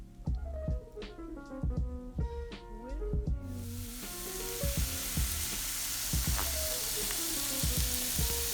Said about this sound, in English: I went ahead and added that in while I was sauteing the zucchini